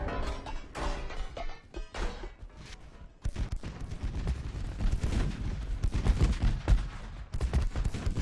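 Battleship guns in a naval battle in Ultimate Admiral Dreadnoughts boom in dense, rapid fusillades, with heavy overlapping shots rolling continuously at close range and barely any pause, and the volume swelling after a brief lull.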